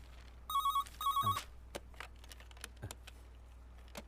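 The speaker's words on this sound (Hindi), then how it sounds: "सर फोन बज रहा है।" Two short bursts of a telephone ringing in an office setting, close and clear, followed by faint clicks and desk sounds with no talking.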